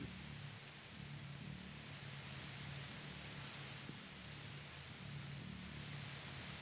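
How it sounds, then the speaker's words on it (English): Static white noise effect in the detective role-playing game Disco Elysium: a steady, even hiss that fills the whole clip at low volume, alone with no talking. "You hear through the white noise. It's bad. It's especially bad suddenly."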